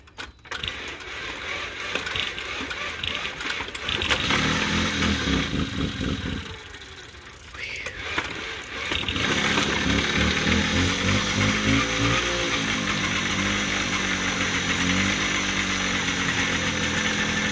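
A Puch Maxi moped's small two-stroke engine sputters, catches and settles into a steady, loud running drone close by, its pitch rising and falling with throttle blips after an uneven, stumbling start.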